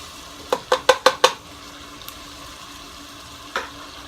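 Olives stirred in a pot while cooking arroz con gandules, five quick metallic spoon knocks in a row, then a lone clack later over a low background hiss, no talking.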